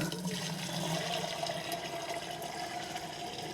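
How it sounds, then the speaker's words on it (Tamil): Water pours steadily into an old tyre fish tank to rinse it out, a continuous close rushing and splashing with no pauses and no voices. "தண்ணி வந்து நம்ம வந்து ஊற்றி கழுவிடலாம் நல்லா"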